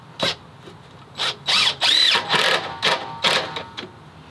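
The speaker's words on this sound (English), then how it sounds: "I'm going to screw from one side and then up through the other when I'm done one side of this." Power drill driving screws into a wooden jump post for horses, whirring in about eight short bursts of varying length with brief pauses between, close and loud.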